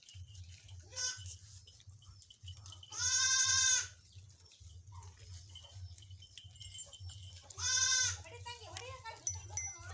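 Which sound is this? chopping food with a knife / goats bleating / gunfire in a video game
goats bleating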